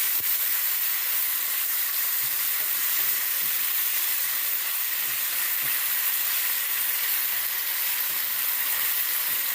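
Sauce poured into a sizzling fried base in a pan, giving a loud, steady, close hiss of frying that holds unbroken throughout.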